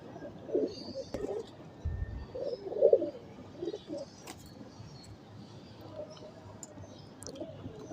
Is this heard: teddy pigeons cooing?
yes